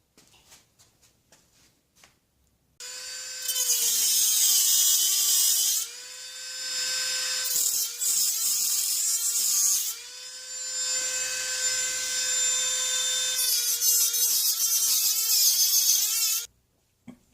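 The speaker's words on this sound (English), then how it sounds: "I'm going to use a Dremel to magnify the veins and give some edges to it." A Dremel rotary tool grinds edges and vein details into a metal winter sculpture, giving a close, loud, high whine that holds steady from about three seconds in, wavering in pitch with brief dips as the bit bears on the metal.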